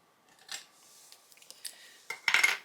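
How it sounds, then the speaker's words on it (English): Scissors snip around a paper card piece in a series of soft, close cuts, getting louder and busier toward the end, with no talking. "I'm going to fussy cut this out."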